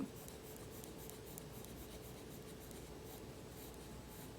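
A colored pencil shading red-orange on paper gives a soft, steady, close scratchy rasp of rapid back-and-forth strokes, quiet and continuous with no talk.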